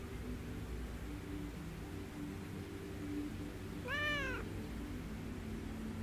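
A single cat meow, rising and then falling, rings out clearly about two-thirds of the way through over a steady hiss of background noise, with no other sounds around it.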